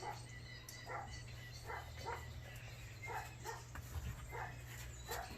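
Faint, muffled dog barks repeat at a steady rhythm from a distance, as if behind walls, over a low constant hum.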